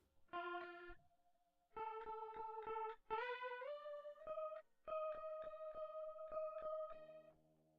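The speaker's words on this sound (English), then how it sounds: "we're gonna get my favorite reverb plugin ever, and we're going to Caramel Guitar" A guitar plays short plucked notes and chords drenched in lush reverb from a reverb plugin in FL Studio, each phrase ringing out into a shimmering wash before the next.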